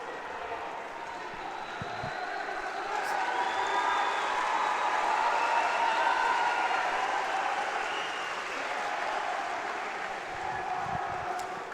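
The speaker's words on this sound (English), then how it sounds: "You can hear the crowd cheering on for both fighters" Judo crowd at a golden score match cheering for both fighters, a sustained roar with applause that swells in the middle and eases slightly toward the end, heard from within the arena.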